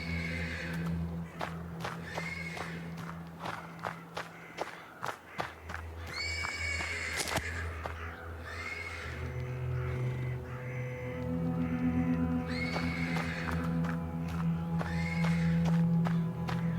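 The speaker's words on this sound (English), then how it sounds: "The persistent neighing of a horse can be heard from the stables." Horse whinnying repeatedly from stables in the video game Black Book, loud drawn-out neighs returning several times amid crows cawing, hoof clops and shuffling steps over a low ambient drone.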